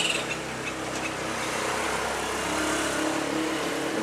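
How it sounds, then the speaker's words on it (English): Motor traffic passes below a hotel balcony in Matagalpa, Nicaragua, a continuous engine drone from moderately distant vehicles with no voices. "I'm sure you can hear the motorcycles and the parrots."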